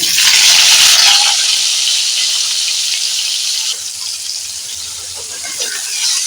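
Potatoes coated in salt and turmeric land in hot oil in a kadai, giving a loud, steady hissing sizzle that stays broad and continuous throughout and settles slightly after the first second, with no speech.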